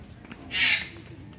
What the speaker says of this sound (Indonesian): burung nuri